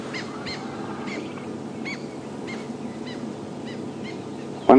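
Repeated short, high begging calls from a young bird, a few evenly spaced notes over a steady low background rumble, ending in a loud clunk, on a morning safari drive at Djuma Game Reserve.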